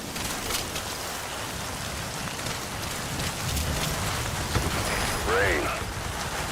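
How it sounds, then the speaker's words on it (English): Steady rainfall in Metal Gear Solid V: The Phantom Pain hisses as a broad, continuous wash, with a brief chirping sound near the end. "The sound of rainfall should help to mask your footsteps."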